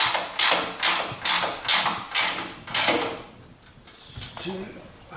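Six rhythmic ratchet pulls tighten bolts on a 2015 Jeep JK Wrangler flat fender. Each loud, close clicking stroke is followed by a brief pause, then quieter handling noises.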